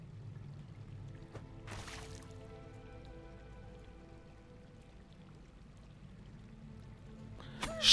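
Water splashing and pouring in the video game Sons of Valhalla: a quiet wet splash near the two-second mark, a soft drip and a louder splash at the very end, all over a low, steady game background.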